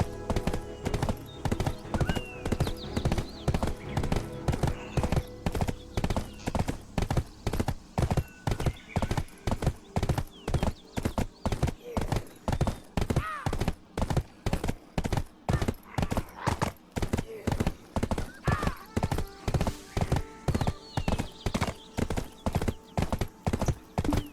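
Rapid, regular horse hoofbeats in Black Desert clopping without pause, loud and close, with an occasional faint whinny in the mix.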